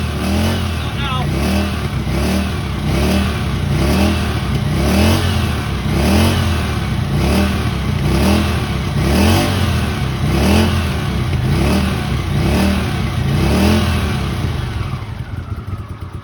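A 1981 Honda CX500 motorcycle, laid up since 1995 and just restored, runs close by with a steady, loud, throbbing engine note and a regular pulsing rhythm that carries on evenly until it fades slightly at the end.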